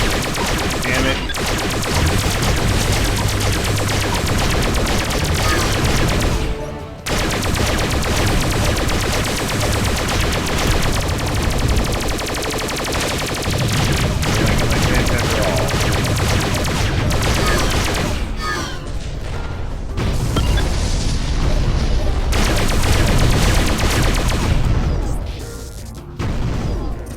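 Weapons fire in space combat from the game Freespace 2: loud, dense, continuous rapid-fire bursts and booms that go on nearly without pause, with only a few brief gaps in the barrage.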